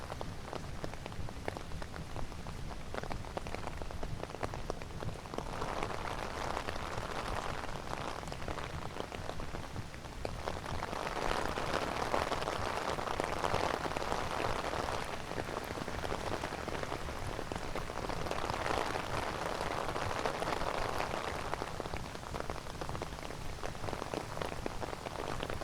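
Steady rain falls on pavement in Court Square, Long Island City, New York, producing a constant hiss of drops on wet surfaces with soft swells in intensity and faint city background noise.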